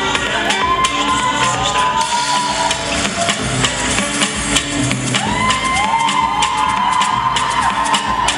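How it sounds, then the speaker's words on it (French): A crowd cheering and applauding for a winner at the Miss Guinée-Canada 2014 pageant, loud and continuous with whoops and shouts rising over dense clapping throughout. "Une dernière main d'applaudissement pour Romy, s'il vous plaît."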